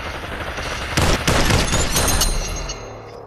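Shotgun blasts in the VR shooter Population One, several sharp, loud close shots in quick succession over about two seconds against background game noise, with no talk.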